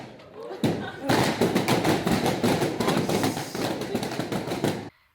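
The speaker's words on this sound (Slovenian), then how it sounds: "ko so ljudje pokali balone, v katerih so bile neke nagradne igre" Balloons being popped by people at a blogger conference, a rapid run of sharp bangs and pops over a few seconds, mixed with crowd chatter and voices, fairly loud and close.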